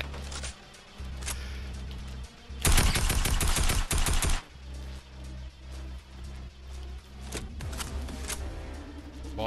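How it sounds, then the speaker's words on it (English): Gunfire in the Fortnite video game, a dense loud burst of rapid shots lasting a couple of seconds amid scattered clicks and rustles, with quieter game noise after. "What a fucking shot that was."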